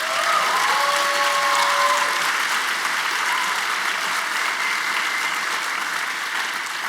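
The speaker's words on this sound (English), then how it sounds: "Can we give Salia one more round of applause?" Sustained audience applause fills a student celebration, dense and steady from start to finish with a faint voice briefly heard early on.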